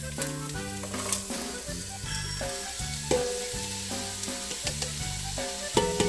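Carrots are tipped into a pot of sizzling onion and celery for chicken and wild rice soup, giving a steady frying hiss under prominent tonal background music.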